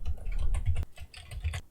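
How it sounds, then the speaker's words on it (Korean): Computer keyboard keys are pressed in a quick series of close, crisp clicks, with arrow keys tapped several times and then the enter key, one firmer clack standing out partway through. "명령어를 입력해서 방향키로 하나, 둘, 셋, 넷, 5번 이동해서 엔터를 한번 쳐서"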